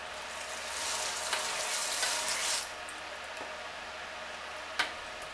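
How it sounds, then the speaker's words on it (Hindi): Onions and meat fry in a pan for bhuna gosht, a faint, steady sizzling hiss that swells early and then settles, with a couple of small clicks. "अब सिर्फ आपने इसको भूनना है फ्राई"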